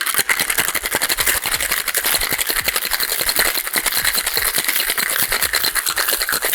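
A cocktail shaker is shaken hard and fast with lime juice and ice, giving a dense, steady rattle of ice against the tin for several seconds, loud and close, with no talking over it.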